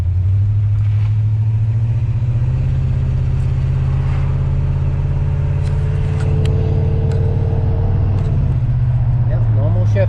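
A Pontiac Grand Prix with a new B&M shifter drives along, its engine holding a low steady drone that rises in pitch and then drops as it shifts gears, loud and close inside the car.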